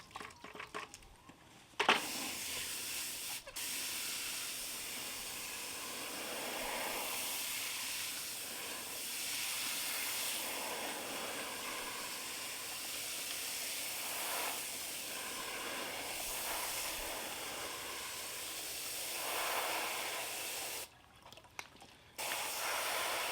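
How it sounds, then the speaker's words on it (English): Water sprays steadily as dirt is rinsed through a classifier screen into a bucket, a continuous hissing wash that runs nearly the whole time with brief pauses near the start and end. "Gently rinse it off there"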